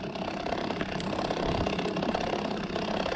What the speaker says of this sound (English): Sounds like a motorcycle.